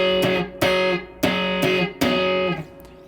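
Distorted electric guitar strums a power-chord shape with the fifth swapped for a second or ninth, five sustained chords struck in a steady rhythm, each ringing briefly before the next, loud and alone.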